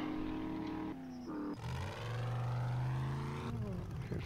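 A vehicle engine in the 7 Days to Die video game drones and shifts pitch during wheelies, a steady mid-level hum that rises and dips, with a voice talking over it.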